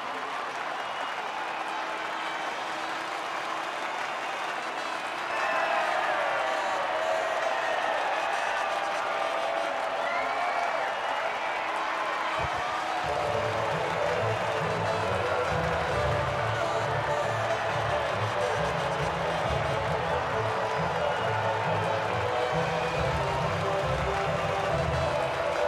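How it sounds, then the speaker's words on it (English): A crowd cheering and applauding at the podium after the Canadian Grand Prix in the racing game F1 23. It builds into a steady wash of cheers and clapping, with rhythmic stadium music joining partway through and a voice talking over it. "the reaction from the crowd must be incredibly uplifting for them"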